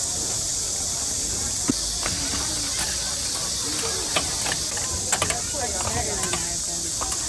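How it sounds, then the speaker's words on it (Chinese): An egg frying on a street food griddle at a busy lunch food street in Zhengzhou, China, giving a steady bright sizzle with scattered clicks and scrapes and faint background voices. "煎鸡蛋正在做"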